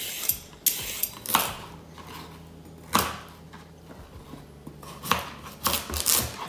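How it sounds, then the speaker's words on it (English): Carrots and other vegetables being peeled and chopped for a sausage and bean stew, with sharp knife knocks on a board and scattered clinks and scrapes, quiet and irregular, no talk. "First, I'm going to peel and chop the carrots and the rest of the vegetables."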